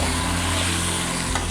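Mutton (gosht) frying in a pot over medium-low heat for namkeen gosht, a steady close sizzle with a constant hum underneath.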